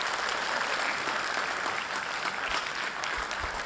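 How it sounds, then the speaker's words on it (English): An audience at a memorial lecture gives a round of applause for a guest, with steady, continuous clapping filling a hall at moderate loudness. "May I please have a big round of applause for Mr. Bise?"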